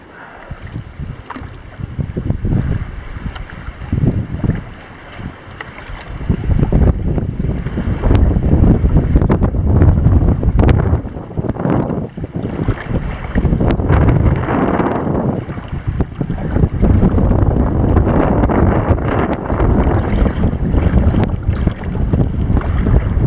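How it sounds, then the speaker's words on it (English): Strong wind buffets the microphone while canoeing on a whitecapped lake in the Boundary Waters in August, a loud continuous roar with water sloshing against the hull and no talk. "It's been windy all night."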